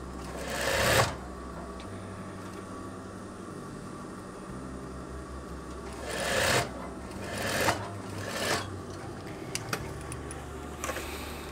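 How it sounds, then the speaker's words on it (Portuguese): A sewing machine stitches a veterinary coverall up to the shoulder, running in several separate bursts of whirring with quiet pauses between them, close by and fairly loud. "E vou costurar até o ombro, passando um pouquinho para frente do ombro."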